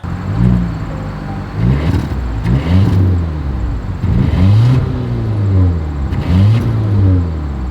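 Exhaust of a 2024 Volvo V90 Cross Country luxury wagon revving in repeated bursts, each rise and fall of the engine note close and loud, with no talking over it.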